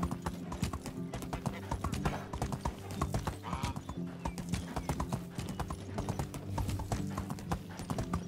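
Steady clip-clop of horse hooves walking at an even pace in the video game Medieval Dynasty, close and fairly loud, with a brief whinny partway through.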